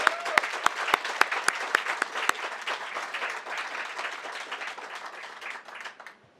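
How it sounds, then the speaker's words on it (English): An audience at a leadership award celebration applauds honorees, opening with a few sharp individual claps and building into sustained room-filling applause that gradually thins out toward the end. "Let's give another round of applause to our 5 leadership honorees"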